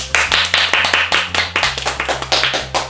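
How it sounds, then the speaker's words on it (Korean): Audience clapping at a children's newspaper preview show, a rhythmic run of fairly close, distinct hand claps beating in unison over a low steady hum, with no talk. "박수 한번 주세요"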